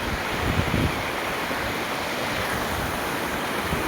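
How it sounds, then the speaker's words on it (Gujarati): A flooded river in the rainy season rushes past close by, a loud, dense and unbroken roar of churning water with a windy edge. "કેવું પાણી ઉતરે છે"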